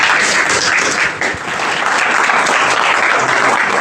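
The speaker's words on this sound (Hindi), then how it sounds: "तालियां बजाएं" Steady, loud applause from a crowd, dense clapping throughout with a brief dip partway through, no voices standing out.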